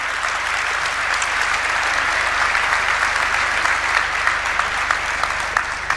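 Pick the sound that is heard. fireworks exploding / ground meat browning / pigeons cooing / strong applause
strong applause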